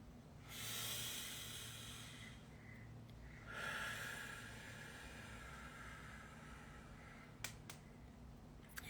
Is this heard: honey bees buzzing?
no